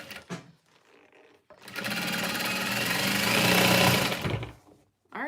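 A sewing machine set to a long stitch length runs a seam down one side of a garment, whirring loudly for about three seconds after a few short starts, then stopping.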